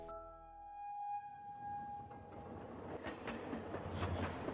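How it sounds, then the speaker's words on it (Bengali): A train accelerating away in an audio-drama effect, a rising rumble with rail clatter that builds and thickens, preceded by a fading steady whistle-like tone. "ট্রেনে স্পিড দিয়েছে ততক্ষণে।"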